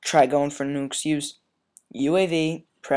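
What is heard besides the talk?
None of the usual background noises is heard.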